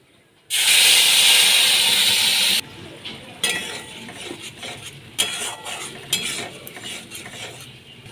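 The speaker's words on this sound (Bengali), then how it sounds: "এবার আমি এর মধ্যে মশলার পেস্টটা দিয়ে দিচ্ছি" Masala paste hits hot oil with cumin seeds and dried chillies, letting out a loud, bright burst of sizzling for about two seconds before settling into quieter intermittent crackles and spoon stirring.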